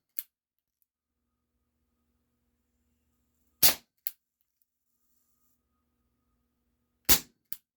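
A Cybergun Baby Eagle airsoft pistol fires at a target about six yards away: sharp, isolated snapping shots, each followed by a quick smaller click, spaced seconds apart against near silence.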